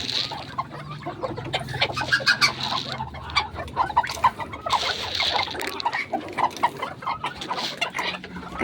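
Pet chickens and turkeys cluck and call in a steady, busy chorus from close by, with overlapping clucks, squawks and an occasional rooster-like cry throughout.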